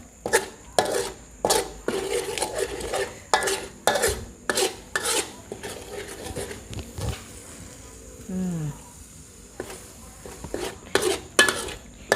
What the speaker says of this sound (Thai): การค่อยๆผัดน้ำพริกไปนี้ค่ะ ความหอมก็ได้ออกมาเหมือนกันนะ